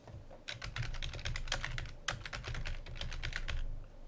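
Rapid clicking keystrokes on a computer keyboard as a catalogue name is typed into Photoshop Elements 11, close and fairly quiet, in an irregular burst pattern with brief pauses.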